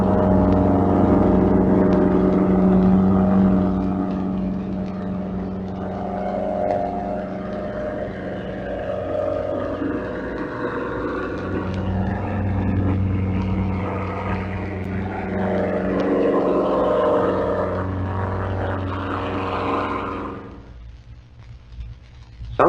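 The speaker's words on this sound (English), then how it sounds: "here is a German air torpedo at a speed of 38 knots." A German air torpedo running at 38 knots, captured underwater, gives a steady broadband propeller and machinery drone with low tonal bands, continuous and fairly loud for about twenty seconds before cutting off abruptly near the end.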